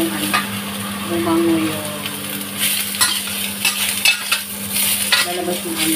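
Garlic and ginger sauté in a pan with a steady sizzle. Repeated scraping and clinking of a utensil stirring against the pan run throughout, close up.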